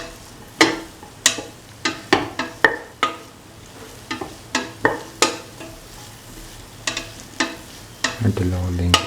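Cauliflower rice is stirred and fried in a pan, with repeated sharp scrapes and clacks of a utensil roughly every half second over a steady faint sizzle, ending in a louder burst of frying.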